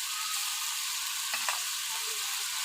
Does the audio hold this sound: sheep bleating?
no